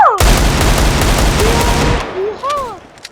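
A long rapid burst of automatic gunfire from a shooting video game, loud and close, cutting off after about two seconds and followed by a couple of short voice sounds.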